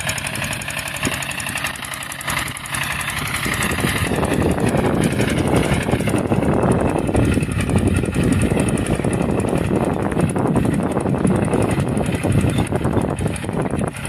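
A walk-behind motor tractor with a rotary tiller works clumpy field soil ahead of sowing wheat, its engine running loud and close with a steady, rough, knocking drone that holds throughout.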